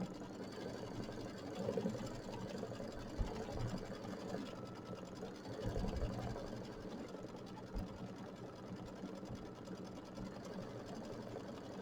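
A sewing machine stitches a stippling quilting pattern, a continuous, moderately quiet motor hum with rapid needle chatter that swells and eases slightly over about twelve seconds, with no talk.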